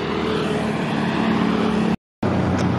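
A Hino-engined bus on a busy holiday return-traffic road, its engine droning steadily loud and close as it accelerates past, with a brief dropout near the end before the road noise resumes.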